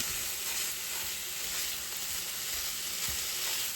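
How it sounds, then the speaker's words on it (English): Ground meat sizzles in an oiled pan while being mashed, a dense steady hiss of frying, close and loud, with soft scraping thumps from the mashing underneath. "just take your meat, drop it in. Just start mashing it up"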